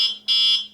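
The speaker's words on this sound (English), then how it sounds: "very, very annoying buzzer" A loud, shrill electronic alarm buzzer on a rebuilt VanMoof electric bike sounds in two bursts, a short one then a longer one, close up with no other sound.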